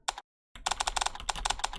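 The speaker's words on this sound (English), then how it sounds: "You can change the typing sound." A simulated keyboard typing effect from a writing app sounds as rapid, crisp clicky keystrokes in a quick burst, with a brief silent gap early on before a steady run of taps.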